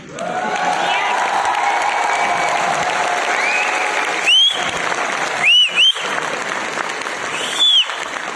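A live audience at a direct-selling talk claps loudly and steadily throughout, a dense continuous roar of hands, with a few brief whistles or shouts cutting through near the end.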